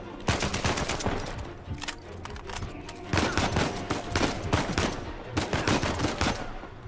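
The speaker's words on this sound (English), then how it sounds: "Bro, okay, who's shooting me?" Heavy automatic gunfire in the video game Uncharted 4, dense rapid bursts almost continuous across the stretch, loud and close with brief pauses.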